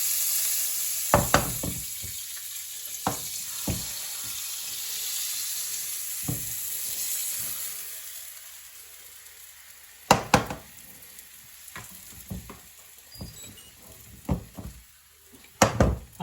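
A pancake fries in a hot pan with margarine, giving a steady sizzle broken by sharp knocks and clatters of a utensil against the pan, with no talk.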